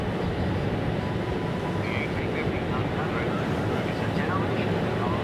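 An Airbus A350 XWB jet airliner on a flight display approach to runway 02 right at Changi East airbase, a steady broad roar of engine and rushing air filling the whole stretch at even loudness.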